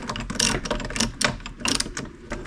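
Battery cable terminals on a Jakiper battery are tightened with a ratcheting tool, giving close, rapid, uneven clicking that comes in short bursts.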